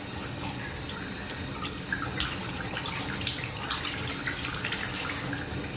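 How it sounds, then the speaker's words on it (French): Water runs steadily from a tap into cupped hands, a continuous splashing hiss with small irregular spatters, close and fairly quiet, with no voices. "vous allez prendre de l'eau et vous allez en boire"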